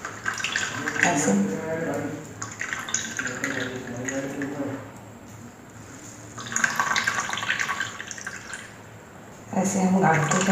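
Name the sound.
water draining and dripping from a cloth bundle of chhena for rasgulla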